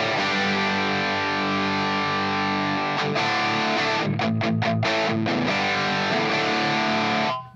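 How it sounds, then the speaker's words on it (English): Electric guitar played through the overdrive effect of a Line 6 POD Express, a sustained crunchy chord with a short burst of choppy rhythmic strums near the end, loud and alone before it cuts off. "Overdrive."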